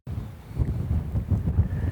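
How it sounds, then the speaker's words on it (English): Wind gusting at a remote mine, buffeting the microphone with low, uneven rumbling bursts that swell and ease throughout. "it's a little windy today"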